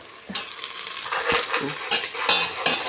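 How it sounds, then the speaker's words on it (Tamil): Sliced onions and mint leaves fry and get stirred in a pan of hot oil, a close continuous sizzle broken by scraping spoon strokes and light clinks against the pan. "வெங்காயம் நல்லா வதங்கிடுச்சு. இப்போ புதினா போடலாங்க."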